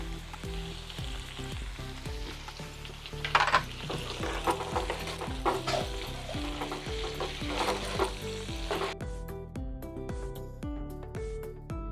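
Onion and capsicum frying with salt in a pan for paneer masala: a steady sizzle broken by repeated stirring scrapes, under continuous background music.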